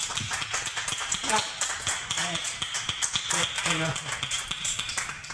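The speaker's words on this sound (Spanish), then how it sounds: "Un aplauso a ese lema." Scattered clapping from a crowd at a literary debate during a town book fair, uneven and patchy rather than a full ovation, with voices and bits of speech running through it.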